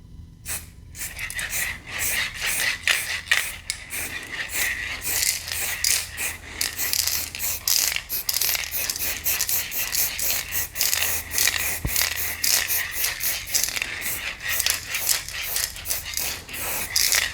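Spray paint hissing onto a shirt in a household art project, a loud, steady hiss broken by short pauses and rapid bursts, close to the microphone with no talk.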